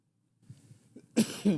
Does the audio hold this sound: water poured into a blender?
no